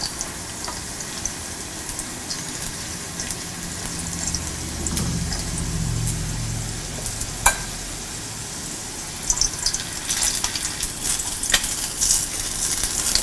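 Quail eggs coated in batter crackle as they fry in hot oil for bhaji, a steady close sizzle with scattered pops and a few scraping stirs and clinks of a utensil.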